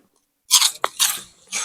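Crisp, crunchy chewing of Bulacan chicharon pork rinds, close and loud, in several bursts of crackling bites separated by short pauses.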